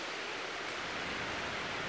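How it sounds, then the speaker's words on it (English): Rain from a tropical storm pours steadily outside, a dense even hiss that stays at one moderate level throughout with no voices. "You gotta excuse the rain."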